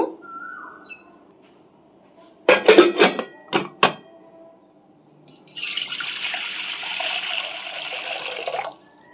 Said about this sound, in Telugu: పెసరపప్పులు అయితే నీళ్ళు వేస్తానండి ఇది కొద్దిసేపు నానబెడతాను